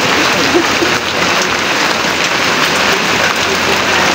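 Rain pours down steadily on surfaces, a loud, dense, unbroken patter filling the whole stretch without pause.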